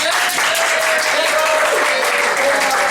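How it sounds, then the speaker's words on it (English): Studio audience applause fills the whole stretch, a loud, dense, steady wash of clapping from a crowd, with a voice faintly under it. "Give Paul in Massachusetts a round of applause."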